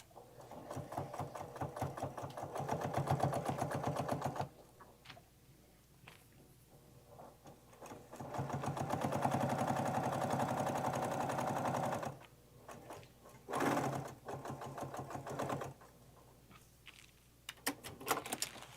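A sewing machine stitches double fold bias binding onto a bag in close, rapid bursts, humming steadily for several seconds, pausing, then running again in shorter spurts.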